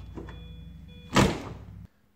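A Mini Cooper door swinging shut with one solid, close thunk, after a faint motor hum from the window rising back up, then quiet.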